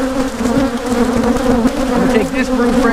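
Loud, dense droning of many honey bees, including nurse bees, swarming close around open brood frames while a hive is being split, a continuous buzz with shifting pitch throughout.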